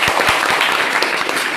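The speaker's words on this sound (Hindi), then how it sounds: "उनके लिए ताली है, अपने अपने लिए ताली है।" Audience clapping at a seminar, a dense, steady burst of applause filling the whole short stretch with sharp claps near the front.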